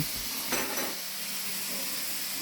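Mince meat frying in a pan gives a steady close sizzle, with a brief stir near the start and no talking.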